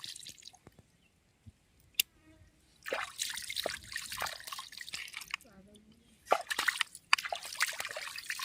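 Water trickles and drips while large pieces of fish are rinsed by hand outdoors, irregular splashes and dribbles in bursts separated by quiet gaps, with voices talking intermittently.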